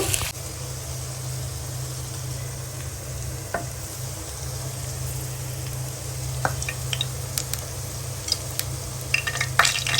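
Vegetables and chicken stir-fried for chicken chowmein while beguni fry nearby, a steady close sizzle of hot oil running throughout with occasional clinks and scrapes of a utensil against the pan.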